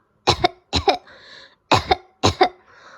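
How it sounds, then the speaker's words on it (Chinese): A person coughs four times in two quick pairs, with a short breath between them, close and clear against silence. "No one heard him cough."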